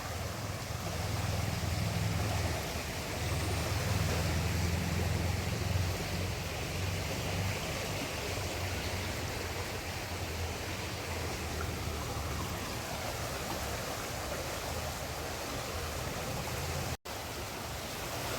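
The flooded Ganges at Haridwar, swollen above the danger mark, rushes in a steady, dense roar of water that holds evenly for the whole stretch with no voices over it.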